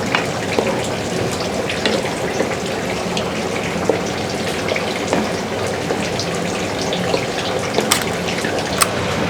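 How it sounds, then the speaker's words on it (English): Coconut milk frying and reducing in a pan over medium heat for a Thai green curry, a steady bubbling sizzle with scattered small pops and crackles, close and continuous with no talking. "You fry it with a medium heat and can reduce the coconut"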